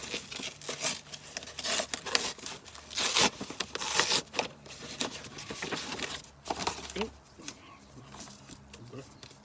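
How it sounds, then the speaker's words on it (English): A cardboard parcel being torn open by hand: rough ripping, rubbing and crinkling of packaging in uneven bursts, loud and close, easing toward the end. "Just tear it open."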